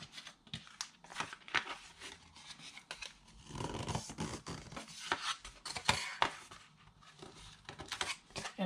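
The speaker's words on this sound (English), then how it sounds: "just fold the paper up just to kind of train it" Paper crinkles and rustles as it is folded, creased and pressed for a paper purse, in irregular bursts of rubbing and scraping, close up.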